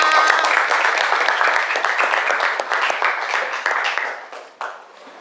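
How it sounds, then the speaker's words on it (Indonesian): Applause from a classroom of students for their classmates: broadband, dense clapping that holds steady at close range, then thins out and fades after about four seconds. "Beri aplaus untuk teman kalian semua."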